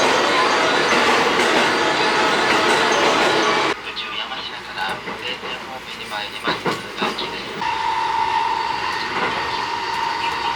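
A train pulls into Kyoto station in Japan with a loud, sustained rumble of wheels and carriages that eases into quieter platform ambience with clatter and squeals, while voices talk nearby.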